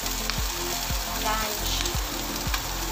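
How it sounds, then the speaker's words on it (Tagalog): Adobo sautéing in a pan, a steady close sizzle broken by regular scraping strokes of a spatula about every half second, with no voices. "Igigisa natin."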